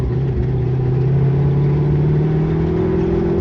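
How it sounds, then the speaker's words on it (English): A car fitted with a Mendeola/Weddle S4S dogbox transmission pulls under throttle, its engine a loud, close, continuous drone whose pitch climbs slowly, with no voices. "get on throttle, let off to let the gears match, and then you upshift"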